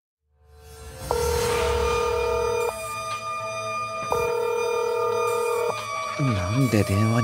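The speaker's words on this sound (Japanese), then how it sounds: "なんで電話に出ないんだ。" A telephone rings repeatedly and goes unanswered in a Japanese drama scene, steady two-tone electronic trills in regular bursts with short gaps, fairly loud and near, followed by a warbling tone at the end.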